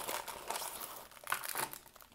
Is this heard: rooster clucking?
no